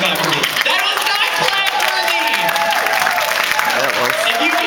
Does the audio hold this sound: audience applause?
yes